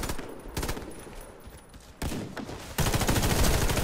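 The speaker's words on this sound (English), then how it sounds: "Who's shooting?" Rapid automatic gunfire in the online shooter Warface, dense sustained bursts that grow louder toward the end, with no pauses.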